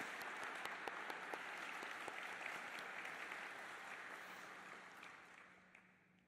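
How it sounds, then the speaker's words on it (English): Audience applause at a Memorial Day commemoration for the American Legion Post 377 Band, a dense wash of many hands clapping with sharp individual claps on top, steady at first and then gradually fading toward the end. "Please join me in a round of applause for the American Legion Post 377 Band."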